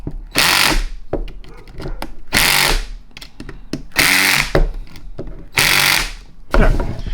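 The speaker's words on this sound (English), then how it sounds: "now I increase the torque on my driver" A power driver whirs in repeated bursts while reassembling a Cornwell CAT3125 3/4-inch air impact wrench, several loud rattling spins separated by short pauses and small clicks of handling.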